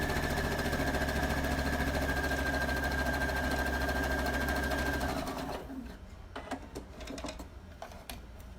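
A sewing machine top-stitches a scrappy Halloween pillow, running in a loud, steady whir for about five seconds before stopping, followed by quieter handling clicks.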